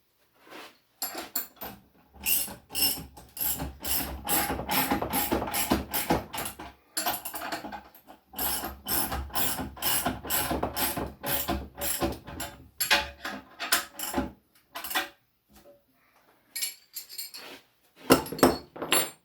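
A wrench ratchets nuts tight while building a wooden shaving horse, rapid loud clicking bursts in repeated runs separated by brief pauses, close up with no speech.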